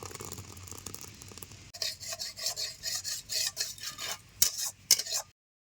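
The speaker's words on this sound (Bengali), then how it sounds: "আমার বেলের ক্ষীর, এবার আমি ঢেলে নেব।" Bael kheer, a milk pudding, being poured or scraped from a pot into a bowl, giving a run of rhythmic rasping scrapes and clinks close up, with no talk.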